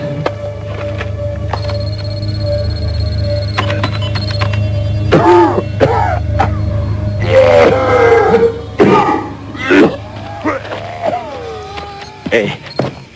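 Electronically altered recorded coughs, modified with a synthesizer, sound in a harsh, warbling series over a steady synthetic drone, some stretched and pitch-shifted into odd tones.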